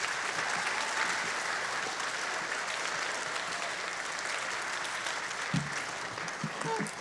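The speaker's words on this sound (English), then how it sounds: "let's give them another round of applause." An audience at a school blue ribbon ceremony gives a steady round of applause, fairly distant and even throughout, with a few thumps and faint voices near the end.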